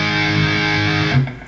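Bell-like natural harmonics on an electric guitar's 6th and 5th strings ring out with a distorted tone, sustaining briefly before fading near the end.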